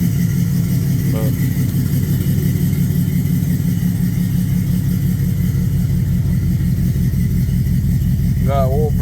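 A roughly idling 1986 Chevy Suburban with an LS engine swap, heard up close as a loud, steady low rumble that runs unbroken for the whole stretch.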